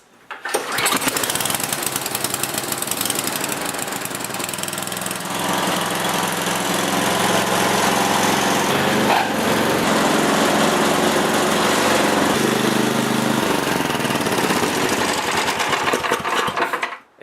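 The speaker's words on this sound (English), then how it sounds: "I'm going to start up the blower just to show you that when it's idling, the augers do not turn" A Murray snowblower engine starts and runs at a steady idle in a shop, a loud, continuous buzzing small-engine drone from start to finish.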